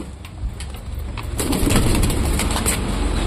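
Pigeons coo softly at close range against a steady background hiss, with faint rustling and a brief bird movement sound.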